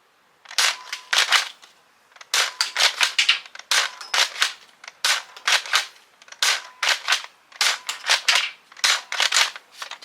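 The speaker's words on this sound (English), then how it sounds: "we're going to fire it without the barrel with the Adventure Force darts" A Nerf Elite 2.0 Eaglepoint blaster fires Adventure Force darts with its barrel removed: close, sharp snapping bursts come in quick clusters with brief pauses between them, and no one speaks.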